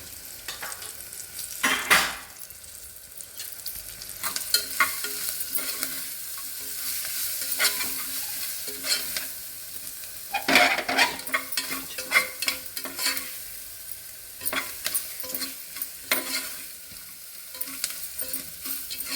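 Dal tempering with asafoetida and turmeric sizzles steadily in a pan while a spoon stirs and scrapes, giving intermittent louder clatters over the constant frying hiss.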